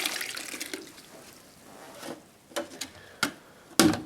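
Tap water runs and splashes while drywall mud tools are rinsed at a sink. The wash of water fades, then a few sharp knocks and drips follow, close by and with no talk.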